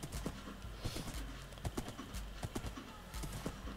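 Donkey hooves clip-clop in a quick, steady rhythm in the Minecraft video game, the close, even hoofbeats running throughout with no talking.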